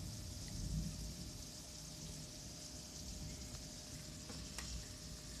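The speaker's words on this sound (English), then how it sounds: "Holy crap, that rain is crazy." Heavy rain pours down in a dense, steady hiss, moderately close and unbroken, with faint occasional splashes over a soft low rumble.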